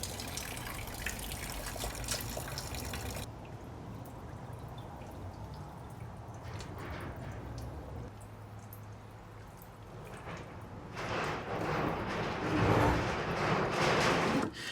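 Old fuel drains from the tanks of a 1968 Jaguar S-Type in a steady, close trickle and pour that shifts in character partway through and grows louder and splashier toward the end. No voices are heard.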